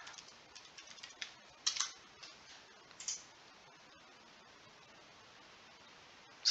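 Light, irregular key clicks from someone typing a password on a computer keyboard, faint and close, with a few louder taps among quiet patter and no talk.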